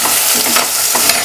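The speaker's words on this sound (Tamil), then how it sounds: "நல்லா கருவேப்பிலை கொஞ்சம் போட்டு வறுத்துடலாம்" Curry leaves and mint fry in hot oil as the base for a country chicken soup. The sizzle is loud and close, with a steady crackle and brief stirring scrapes in the pan.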